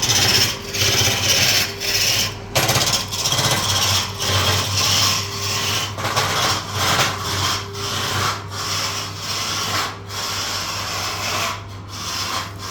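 Continuous rough scraping of wood with a hand plane, stroke after stroke in an uneven rhythm, over a steady low hum.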